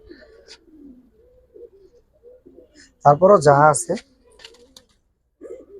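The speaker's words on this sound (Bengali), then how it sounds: "ও তো সবই ডাকে ভাই" A Giribaz pigeon coos once in a rolling, vibrating burst of about a second, close by, amid a quiet room with someone speaking briefly before it.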